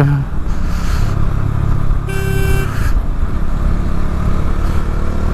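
A motorcycle running fast in high gear down a long straight mountain road in Spiti, with a loud steady engine drone and rushing wind, and a short horn-like tone partway through.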